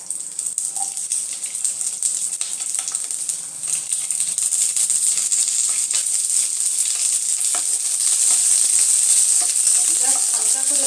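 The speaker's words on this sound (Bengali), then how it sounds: "এই পেঁয়াজগুলো একটু হালকা করে ভেজে নেব" Large cut onion pieces fry in hot oil for a restaurant-style bhindi do pyaza, a constant bright sizzle that swells louder partway through, with occasional light stirring clinks and no talking.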